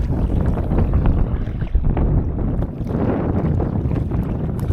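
Strong wind buffets the microphone aboard a boat in the middle of Lake Yojoa, Honduras, making a loud, continuous low rumble with gusty surges and no talking.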